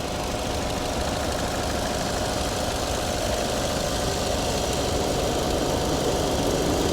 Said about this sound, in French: Je vous montre du coup le moteur de cette petite pépite.